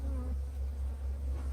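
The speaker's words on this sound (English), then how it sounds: "the frame is full of bees" Honey bees buzz on a hive frame during an inspection of a three-frame nuc, a close, steady low drone with faint movement around it.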